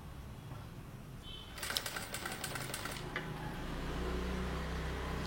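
A sewing machine stitches along a neckline edge, starting after a quiet pause with a dense, rapid mechanical chatter that runs for about a second and a half before settling into a steady low motor hum.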